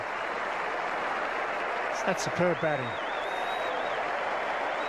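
A cricket crowd at the MCG applauds continuously, a broad, even wash of clapping heard from a distance, with a commentator briefly speaking over it.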